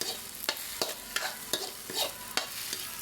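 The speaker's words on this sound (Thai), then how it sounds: "อันนี้นะเพิ่นทอดไข่ก้อน" Egg sizzling in a pan with a little lard and water, with a soft crackling bed broken by sharp scraping strokes of a utensil roughly every half second.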